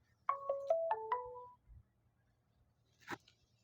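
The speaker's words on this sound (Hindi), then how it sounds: "आशु भैया का फोन आ रहा है, बरेली" A mobile phone ringtone for an incoming call plays a short rising four-note electronic melody, moderately close and alone, followed by a couple of faint knocks and rustles.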